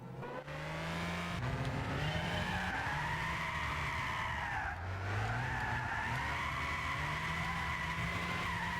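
A Lotus Carlton drift build in Gran Turismo 6, its engine droning loudly under a continuous, wavering tire squeal as the car slides, pitch rising and falling through the drift.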